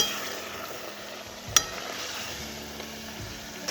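Chicken curry with yogurt frying and being stirred in a pan for Gondhoraj chicken curry, a faint, steady sizzle with soft scraping and one sharp clink of a utensil partway through.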